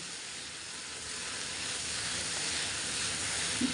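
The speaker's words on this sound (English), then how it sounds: "Saute this well till the vegetables are cooked nicely." Tender kavla leaves sauté in a pan, giving a steady, even sizzling hiss that swells slightly and holds close and moderately loud, with a tiny knock near the end.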